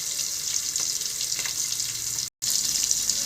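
Ginger frying in hot oil in a pan for a Kerala choora fish curry, a steady close crackling sizzle that runs throughout with one brief cut to silence near the end.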